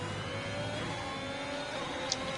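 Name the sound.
race car engine revving in a sim racing video game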